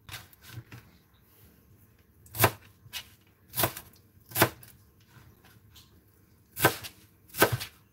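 A knife chops sharply against a cutting board in irregular single strokes, some louder and closer than others, with quiet pauses between, cutting ingredients for a blended bedtime drink.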